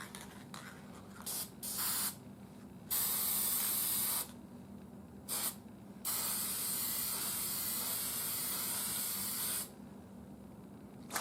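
A spray can of clear lacquer coats a restored 1934 condenser checker in a series of hissing bursts, a few short puffs followed by two long steady sprays, close and clear with no talk.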